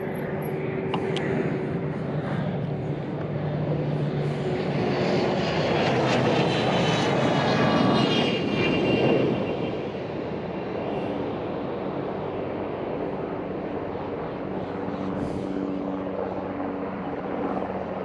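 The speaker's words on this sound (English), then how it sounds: "there's a chase helicopter up there" Chase helicopter flying overhead at jet boat races, a steady broadband rotor and engine drone that swells toward the middle and then holds, continuous throughout without voices.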